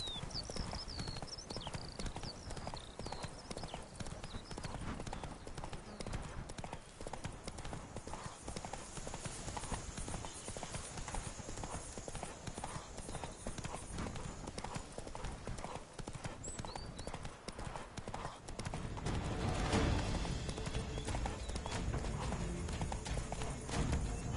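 Horse hooves clip-clop in a steady, rapid rhythm in The Witcher 3 video game, continuous and close, with game music or ambience underneath and a louder swell near the end.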